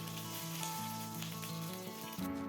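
Mustard seeds and a dried red chilli, split in two, sizzle steadily in hot oil for a Bengali amshi sour chutney, a close, continuous crackling fry with a faint hum underneath.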